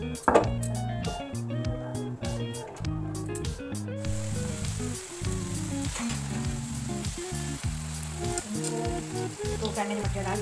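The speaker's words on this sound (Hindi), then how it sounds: "तो फ्राई मैंने मटर डाल दिया, देखिए सिर्फ 5 मिनट को फ्राई करना है" Mathri frying in refined oil, a continuous close sizzle and bubbling with soft spatters, while a tonal buzzing background runs underneath throughout.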